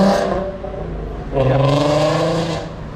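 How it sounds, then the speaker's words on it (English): A nearby car with a modified exhaust revs loudly with a rough, throaty roar, dipping briefly and then surging again, on a street in Famagusta, Cyprus. "There's another modified exhaust."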